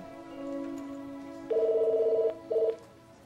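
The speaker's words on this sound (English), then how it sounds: "Your phone is ringing." Cartoon telephone ringing with a bright electronic trill, one longer burst followed by a shorter one after a steady tone, close and alone with no talking.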